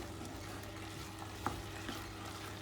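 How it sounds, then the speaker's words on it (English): About 100 ml of red wine bubbles and sizzles with beef in a pan for a lasagne, a quiet steady simmer with one or two soft scrapes of a stirring utensil, no voices. "So about 100 ml of red wine. Let that have a bubble on its own first so we can just boil off the alcohol."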